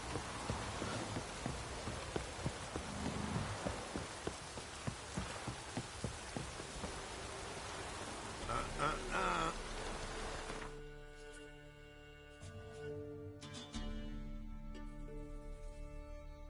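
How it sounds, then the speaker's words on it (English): Heavy rain pouring down in The Witcher 3: Wild Hunt, a dense hiss of drops on surfaces with scattered sharper patters, before it cuts to quieter game ambience with low tones. "proper downpour."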